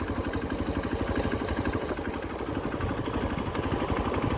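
A motorbike idles in neutral with a steady, close, low rhythmic putter that holds even throughout. No one speaks.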